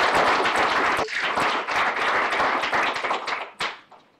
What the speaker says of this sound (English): please join me once again in applauding Ali Khatibi